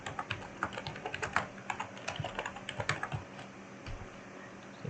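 Rapid typing on a computer keyboard, with irregular bursts of crisp key clicks close by and no voices.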